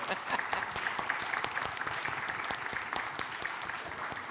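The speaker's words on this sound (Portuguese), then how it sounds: "Uma salva de palmas para ela também, por favor." An audience at a literature panel during the Rio book fair claps continuously in a thick, even wash of applause, sustained at a steady level from start to finish.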